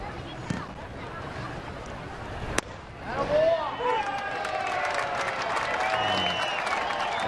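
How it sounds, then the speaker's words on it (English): A spring training baseball crowd at an Orioles–Pirates game lets out an exaggerated cheer, a broad swelling roar and applause that rises after a sharp crack and holds steady at a moderate distance. "An exaggerated cheer from the folks on hand remaining"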